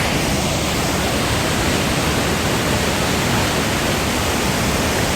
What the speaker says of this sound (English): There's a waterfall basically right below me down there